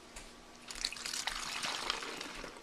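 Liquid for a DIY makeup brush cleanser poured through a funnel into a jar, a soft continuous trickle with gurgling splashes, faint and close, no talk.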